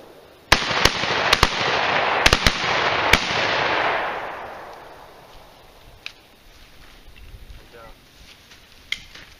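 Fireworks going off outdoors during a day of shooting pumpkins and watermelons, a string of sharp, loud cracking pops in quick bursts over a crackling rush, then fading to quieter scattered pops and background noise.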